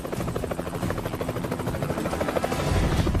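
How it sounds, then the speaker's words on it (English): A helicopter comes in to land, its rotor blades chopping in a fast, steady rhythm over a buzzing engine whine, growing louder and closer toward the end. "When the helicopter was coming in to land, the crew noticed a small UFO approaching it at a high speed."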